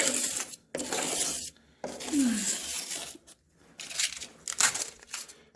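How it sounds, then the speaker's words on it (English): A utility knife trims excess expanding foam around a window frame in a series of close, scratchy rasping strokes, with brief pauses between cuts. "I'm going to trim away this excess foam"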